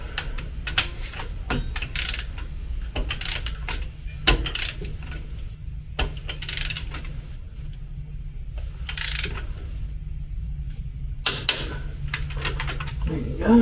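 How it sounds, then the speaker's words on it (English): A torque wrench tightens the differential cover bolts on a Ford Sterling 10.5 axle, giving repeated close ratcheting clicks in short bursts with brief pauses between bolts and a low mechanical hum underneath. "Set this for 33 and torque them all down."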